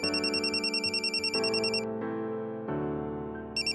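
A phone in a Marathi TV serial plays a repeating electronic ringtone, a rapid warbling chirp pattern over a synthesized melody, loud and clear with no voices.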